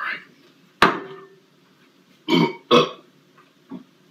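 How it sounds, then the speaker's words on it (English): A loud, abrupt burp erupts once, followed by two more belch-like bursts and a faint short one, with quiet pauses between. "Don't burp at anybody else like that."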